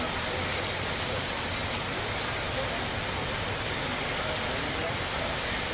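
Torrential rain pours without let-up through the morning in a Bengali village, a dense, loud, constant roar of water hitting surfaces close by.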